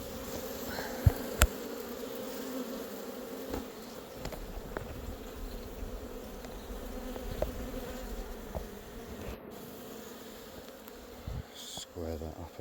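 Dense, steady buzzing of many honeybees swarming around an open hive while frames are replaced, with a few brief knocks and rustles and faint low murmurs in the background.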